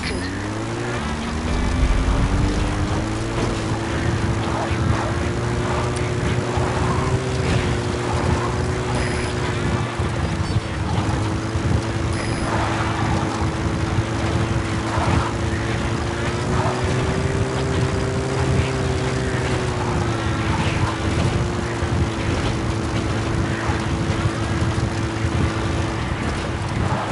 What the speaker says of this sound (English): Support helicopter requested.